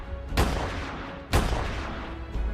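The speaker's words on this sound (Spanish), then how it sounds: "suenan los disparos." Two heavy gunshots boom out about a second apart amid a rumbling background, part of a dramatized prison escape through barbed wire at the Belfast Maze prison, with no talk.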